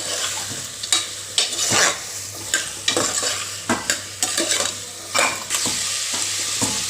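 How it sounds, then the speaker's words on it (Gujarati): Vegetables sautéing in a hot pan for masala khichdi, a steady sizzle broken by repeated scraping stirs of a spoon against the pan, close and fairly loud with no talking. "બધા વેજીટેબલને સરસ આપણે સાતળી લઈશું"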